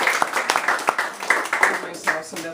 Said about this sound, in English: She deserves applause.